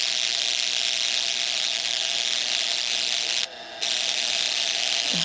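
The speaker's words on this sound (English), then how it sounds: "you can hear how loud the coil itself is in there" A violet ray device's high-voltage coil buzzes in a steady, loud electrical whine with a grinding, ratchet-like texture, briefly cutting out near the end before resuming.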